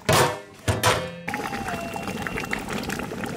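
A lid lands on a pot of goat mutton curry cooking outdoors in a village, with two sharp clanking knocks up front followed by a low, steady bubbling simmer under the covered pot.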